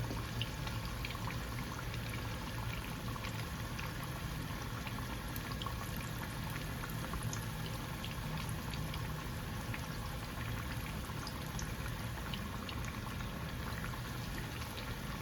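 Large chicken pieces deep frying in hot oil, a steady, dense bubbling sizzle that holds evenly throughout with no talk.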